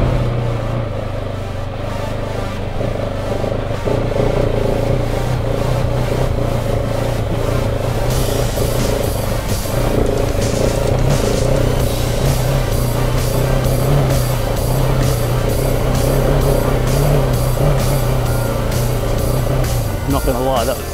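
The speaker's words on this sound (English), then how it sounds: "we're going to go for this hill climb on pretty much road tyres on a brand new KTM 690" A brand new KTM 690 motorcycle on near-road tyres climbs a hill, its engine revving and surging loudly throughout, with a rider talking over the engine noise.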